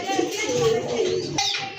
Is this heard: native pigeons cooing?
yes